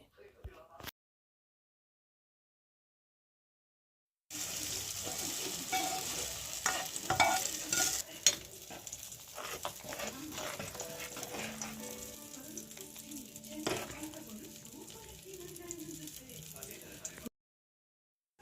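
A pot of fresh green pigeon pea (toor) sambar being stirred, giving steady scraping and bubbling noises for about thirteen seconds after a silent opening, then cutting off abruptly.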